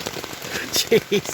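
Steady rain patters on a tent, close and continuous, while a person gives a short exclamation near the end.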